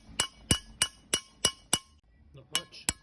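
A hammer tapping a socket to seat a Welsh plug in the engine head of a 1975 Series 3 Land Rover: sharp metallic taps at a steady rhythm, a short pause, then three more taps, close and loud.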